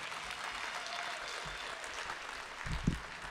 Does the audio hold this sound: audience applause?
yes